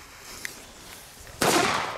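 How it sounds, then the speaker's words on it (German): Fire Event A-Böller firecracker goes off in one loud, sharp bang that follows a faint click in the quiet, leaving a short rumbling tail. "also die A-Böller von Fire Event"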